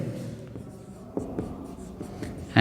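Chalk or marker strokes tap and scratch across a classroom board in a short, close series of marks, with a faint voice nearby.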